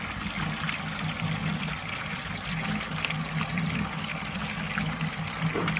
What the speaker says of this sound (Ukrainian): ось 900 ватний насос 12 літрів набирає за 18 секунд